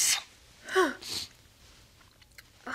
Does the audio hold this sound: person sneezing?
yes